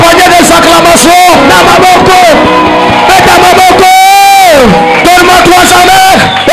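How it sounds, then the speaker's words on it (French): A church congregation at a Bible seminary closing session cheers and shouts acclamations, a loud continuous crowd roar with whoops and rising calls filling the whole stretch, voices layered densely throughout. "donne-moi 3 amens, accompagné des acclamations"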